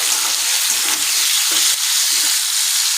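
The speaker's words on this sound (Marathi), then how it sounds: "आपण यामध्ये जे आपण कैरीचे काप करून घेतलेले आहेत ते टाकूया याला छान परतून घेऊया" Raw mango slices sautéing in a hot pan, a loud, steady, close sizzle with faint stirring scrapes underneath, no talk.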